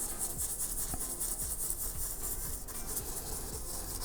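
Brush scrubbing a leather car interior with light, quick back-and-forth strokes, giving a steady, soft, close rasping rub in an even rhythm, with no voices.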